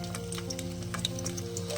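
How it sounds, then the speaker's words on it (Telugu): Green chillies deep-frying in hot oil for an ivy gourd tempering give a steady close sizzle with small crackles and pops over a low continuous hum. "బాగా డీప్గా ఫ్రై చేస్తున్నాను"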